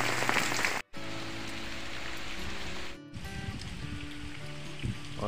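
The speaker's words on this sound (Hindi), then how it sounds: "ये देखिए, अभी भी ज़ोरदार बारिश लगी हुई है।" Heavy rain pours steadily over a mountain area, a dense broadband hiss of drops hitting surfaces with a low rumble beneath, loud and continuous apart from two brief cuts.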